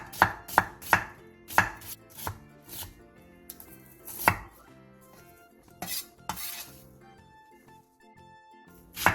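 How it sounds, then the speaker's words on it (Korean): A quarter onion being thinly sliced with a knife on a board, with crisp, evenly spaced chopping strokes, some loud and near, separated by short gaps. "양파 4분의 1개를 부추와 비슷한 길이로 채 썰어주세요"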